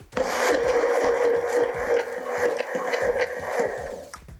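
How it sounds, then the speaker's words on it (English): Blender running on homemade mayonnaise with a pinch of salt added, a steady whirring grind with a rough, rasping texture that wavers slightly, close and continuous for several seconds before stopping. "Now blend again."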